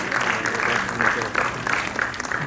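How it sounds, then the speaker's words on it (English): Audience applause at a commission session, sustained clapping from a large crowd that stays steady and fairly loud throughout. "Give a round of applause for Dr. John."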